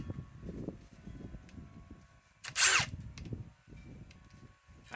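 A Ridgid R872081 1/2-inch drive cordless impact wrench on an 8 amp EXP battery fires one short, loud burst while driving a 6-inch lag outdoors in the cold; low rustling and handling noise surround it.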